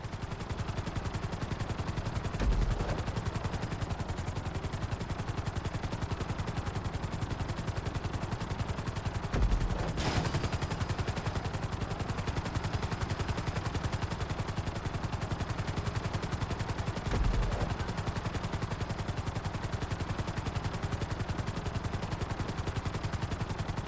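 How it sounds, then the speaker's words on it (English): A helicopter flies during the flight school mission in Grand Theft Auto V, its rotor giving a constant, even chop at moderate loudness with a few soft thumps along the way and no talking. "Bring the helicopter down gently onto the helipad."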